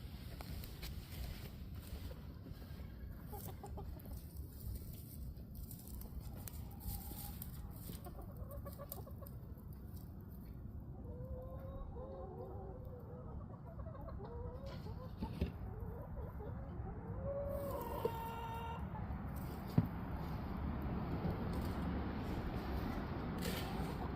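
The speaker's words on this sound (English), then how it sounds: "Here's George the rooster, getting him fed and watered." George the rooster clucks in soft, scattered bursts at a farm during feeding and watering, fairly faint under a steady low background rumble.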